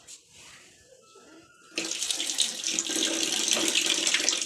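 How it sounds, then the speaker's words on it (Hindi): Running water from a tap splashes as hands are washed at a sink, starting suddenly partway through after a quiet start, then pouring steadily and fairly close with no talk. "नीचे ही हाथ धो,"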